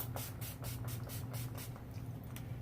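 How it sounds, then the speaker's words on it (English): Several quick bursts of makeup setting spray hiss in a row, close by, each a short airy puff over a low steady hum. "we're going to set it with our setting spray."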